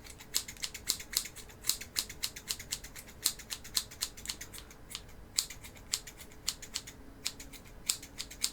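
Scissors snip repeatedly in quick, irregular bursts close by, trimming pieces to different heights during a build, with no voices.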